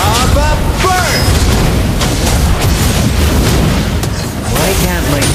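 Valir's Lava Burst fire skill explodes in Mobile Legends, a loud, roaring blast with crackling bursts that sustains for several seconds, mixed with game voices and effects.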